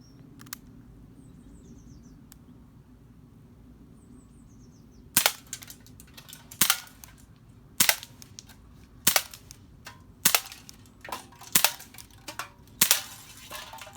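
An RWS C225 CO2 air pistol fires about eight sharp, evenly spaced shots while plinking outdoors, each crack crisp and close, after a quiet stretch with faint birdsong.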